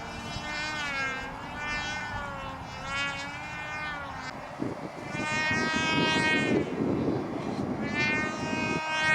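A model Bearcat airplane flying overhead at a windy outdoor model aviation event in Texas, a whining engine note rising and falling in pitch as it passes, with wind noise building underneath.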